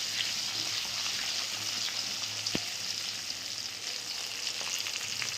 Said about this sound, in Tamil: நல்லெண்ணெயில் தாளிங்க.